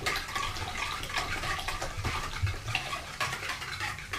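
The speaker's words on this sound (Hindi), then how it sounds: "ये पानी इसमें मैंने मिक्स कर दिया है" Water is poured steadily into a jug of homemade blackberry mint lemonade, a continuous splashing, gurgling flow that stays close and fairly even for several seconds.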